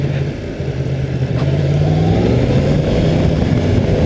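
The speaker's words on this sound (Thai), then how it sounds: "สังเกตเวลาผมบิดคันเร่งดิ" A Yamaha MT-10 motorcycle engine revs loudly and close as the throttle is twisted, a continuous deep growl with rising and falling pitch and no talk over it.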